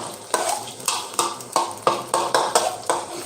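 Pad thai is stir-fried in a pan, with a spatula scraping and tossing the noodles in a steady rhythm of about nine loud, close strokes and a light sizzle underneath.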